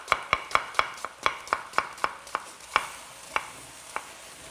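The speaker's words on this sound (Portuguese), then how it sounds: "Eu estou picando aqui agora minha cebola." Knife chopping onion into half-moon slices on a kitchen board, a series of about fourteen crisp, evenly spaced close taps that slow slightly toward the end.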